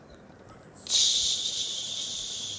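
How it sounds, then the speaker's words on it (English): A sudden loud sizzle begins as an egg is poured into hot oil, then continues as a steady, bright frying hiss. "Now my eggs goes in. Wait till it fries."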